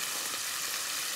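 Fish frying in a pan in a village kitchen, a steady close sizzle with crackling spatter running evenly throughout, no voices over it.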